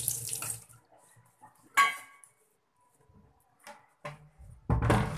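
Tap water runs in short bursts while a grimy mineral water can is rinsed and cleaned at a home sink, with pauses between splashes and a louder gush at the end.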